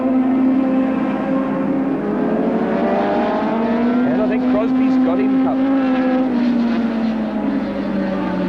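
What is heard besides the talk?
superbike racing past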